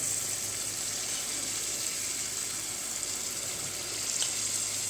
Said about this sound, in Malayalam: വെളിച്ചെണ്ണ നന്നായിട്ട് തിളച്ച് വന്നിട്ടുണ്ട് ഇനി ഇതിലേക്ക് നമ്മുടെ മാവ് ചേർത്ത് കൊടുക്കാം